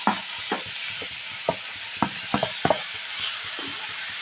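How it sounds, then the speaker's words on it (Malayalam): Tomatoes tipped into a pan of softened onions and green chillies for a Kerala boti roast bring a steady close sizzle of frying, broken by several sharp stirring clinks and scrapes at irregular intervals, with no talk. "അപ്പോൾ നമുക്ക് ഇതിലേക്ക് തക്കാളിയൊക്കെ ഇട്ട് കൊടുക്കാം."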